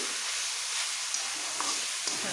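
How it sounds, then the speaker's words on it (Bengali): Fenugreek leaves sizzle and crackle in a hot pan while being stirred, a steady close frying hiss with a few soft scraping clicks, no voices. "একটু নেড়ে দিচ্ছি।"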